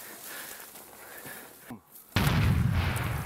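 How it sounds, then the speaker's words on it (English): A big explosion bursts in abruptly after a quieter stretch of low ambience, a loud, close, broadband blast that rolls on as a sustained rumbling roar to the end. "Oh, that was a beautiful explosion."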